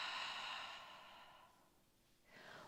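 A long, breathy exhale during a Pilates exercise on a Homeboard, close and fairly soft, trailing off into quiet before a brief fresh breath at the end, with no talking.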